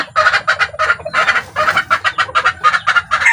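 A white chicken bred in Texas, kept as a fighting-cock line, clucking loudly and close in quick repeated bursts, nearly continuous with brief pauses and no talking.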